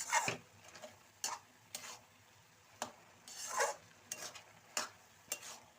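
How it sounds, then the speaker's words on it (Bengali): Spoon stirring carrot halwa in a pan after sugar, ground nuts and cardamom powder go in, giving soft scraping strokes and light sizzling at an irregular rhythm, close up with no talk. "সুন্দর করে মিশিয়ে নিতে হবে।"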